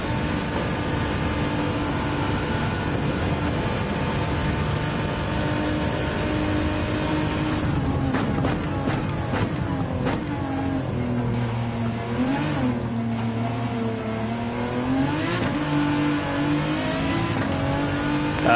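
A race car engine roars in Gran Turismo 7 during a Spa Francorchamps league race, loud and continuous with rising and falling revs, clipped gear changes and sharp upshift crackles midway.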